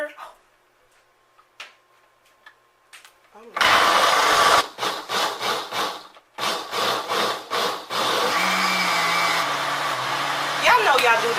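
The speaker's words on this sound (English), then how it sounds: "Now, I always put it on the smoothie part of the blender." A blender whirs on its smoothie setting, blending milk. It starts with loud bursts and pauses, then runs continuously, close and loud, after a quiet stretch of faint knocks.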